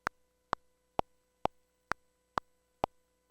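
A steady metronome from a Fortin Nameless amp plugin clicking at an even pace, eight sharp clicks spaced about half a second apart over a quiet background.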